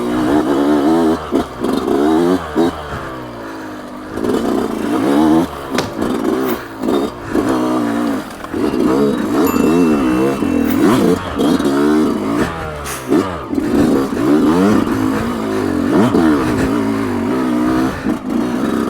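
A Yamaha YZ125X two-stroke dirt bike ridden in first gear, its engine loud and close, revving up and down in repeated sharp bursts with quick drops between pulls.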